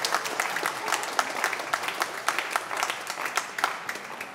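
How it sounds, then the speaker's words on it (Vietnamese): A congregation at a Vietnamese-language Christmas Mass at St. John the Baptist church in Costa Mesa applauds the choir, a dense, steady wash of many hands clapping throughout. "Chúng ta làm một tràng pháo tay cảm ơn ca đoàn Kosomisa."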